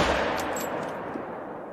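A single loud rifle gunshot fired at a bull moose in the hunting game theHunter: Call of the Wild, a sharp crack that rolls off into a long fading echo with no voices.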